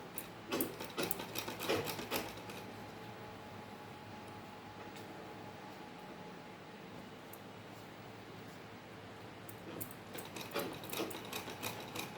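A sewing machine runs a long, steady stitch along a salwar ponche strip, making a continuous close hum. A few scraping, rubbing handling noises come at the start and end, with no talking.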